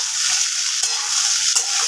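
Okra and potato fry over raised gas in a pan, giving a loud, close, continuous hiss with a couple of quick spitting bursts when the pieces are stirred.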